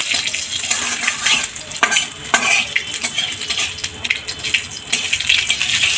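Mustard seeds fry in salted oil in a pan, a close crackling sizzle broken by frequent scraping and clinking of a stirring utensil against the metal.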